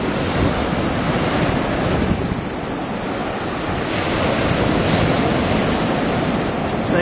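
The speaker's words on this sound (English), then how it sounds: "They have the red flag up, which means the wind is too strong to sail." Strong wind buffeting the microphone over breaking surf off Marco Island, a loud continuous roar of gusts and waves with no voices.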